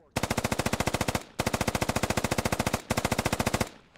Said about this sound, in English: Suppressing fire going down painfully close to that guy, but he retreats.